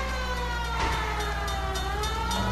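Fire engine siren wailing in the L.A. Noire video game, a steady rising-and-falling tone held loud and close over car engine noise for a couple of seconds, no talking.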